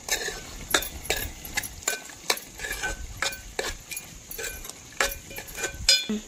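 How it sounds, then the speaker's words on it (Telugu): A spoon scrapes and clinks repeatedly around a pan of mushroom curry with coriander powder, giving steady rhythmic stirring strokes close by with a faint sizzle underneath, and no talking. "తిప్పుకుందాం."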